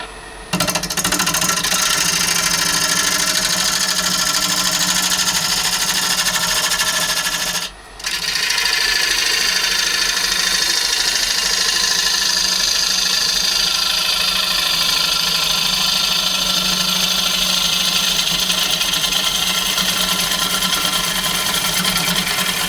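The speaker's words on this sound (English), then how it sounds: "I'm going to come in now with the bowl gouge and increase the speed a little bit, just to start to get a crisper finish" A wood lathe spins an olive ash bowl blank while a bowl gouge cuts its outside at a slightly raised speed, giving a steady loud motor whine with a constant scraping hiss, one brief dip early on and no talking.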